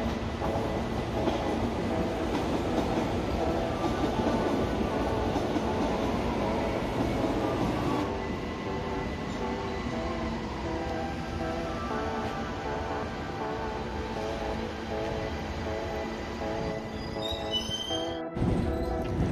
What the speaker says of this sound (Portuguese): Se não me engano é um trem CAF da série 2000.